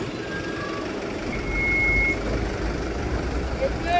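A school bus pulls up with steady reversing beeps sounding over its rumbling engine and road noise, fairly close and continuous.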